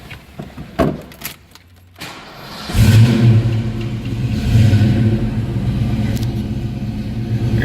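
A 1990 Ford Mustang LX 5.0 V8 convertible cranks with a few starter bursts, then catches and settles into a loud, deep, steady rumbling idle close by.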